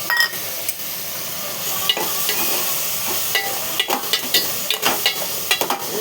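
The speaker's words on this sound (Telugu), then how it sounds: "ఇది కొంచెం నూనెలో ఫ్రై కావాలి" Tomato and cucumber pieces frying in oil in a pan, a steady sizzle broken by repeated sharp scrapes and clinks of stirring that grow busier toward the end, with no talking.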